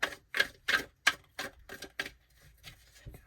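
A rapid series of crisp flicking and snapping bursts as tarot cards are shuffled, repeating in quick succession then tapering off.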